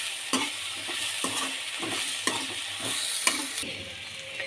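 Coriander, curry leaves and mint sauté with a piece of tamarind for a thuvaiyal. A close, continuous sizzle runs throughout, with a spoon scraping the pan about once a second and no voices.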